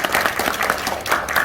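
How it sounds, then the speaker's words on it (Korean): Applause from a small meeting audience in Gwangju welcoming visiting lawmaker Yang Geum-hee, a steady burst of many hands clapping close by, continuous for a moment with no talk over it. "이렇게 광주까지 오신 양금희 의원님께 큰 박수 한번 부탁드립니다"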